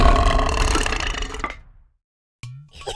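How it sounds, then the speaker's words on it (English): Cartoonish belch sound effect from the Endless Alphabet game, a long loud, rumbling burp that trails off into silence, followed by a brief tonal blip and a short noisy burst. "Belch is another word for burp."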